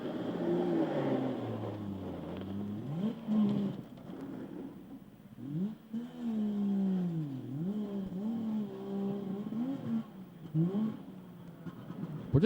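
A historic Saab two-stroke rally car on a forest rally stage, its pinging engine note rising and falling through repeated revs and gear changes, fairly close and continuous with no talk.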